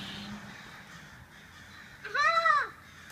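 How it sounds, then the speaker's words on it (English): Crows caw in a short burst of several harsh calls near the end, loud and fairly close, after a stretch of quiet outdoor background. "Are you telling those crows what for?"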